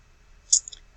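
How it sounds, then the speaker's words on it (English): A single computer mouse click, close and faint, on a genealogy census image page, with a second softer tick just after it in an otherwise quiet room. "you have to actually click on the image"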